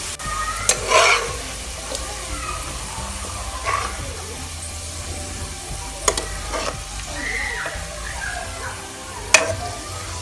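Steady sizzling of onions frying golden brown in a pan over medium flame, with occasional stirring clinks and scrapes rising above the constant crackle.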